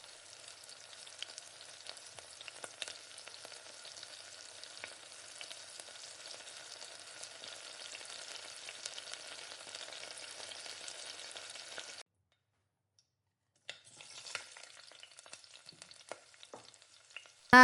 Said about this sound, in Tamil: குலோப் ஜாம் வந்து நம்ம பொரிக்கிறப்ப இன்னும் எண்ணெய் அதிகமா தான் சேர்க்கணும்